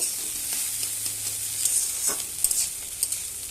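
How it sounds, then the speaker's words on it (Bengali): Chira poha with butter sizzles in a pan while a spoon stirs and scrapes it in soft, irregular strokes, close and fairly quiet. "এবার আমি ভালোভাবে নাড়ব।"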